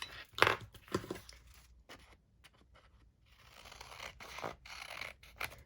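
Scissors trim the edge of a paper page for a handmade journal, a few crisp close snips and rustles followed by a quieter, drawn-out cutting scrape, faint overall with short silent gaps.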